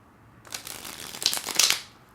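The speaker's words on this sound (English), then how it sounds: "trying not to shuffle the cards right underneath the microphone" A quick riffle of tarot cards being shuffled close up, a brief papery flutter that builds and fades within a couple of seconds.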